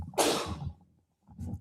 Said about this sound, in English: incredible timing on that sneeze there